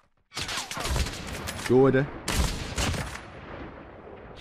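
An MG42 machine gun in the mobile shooter COD Mobile fires bursts of rapid gunfire under excited talk from a player.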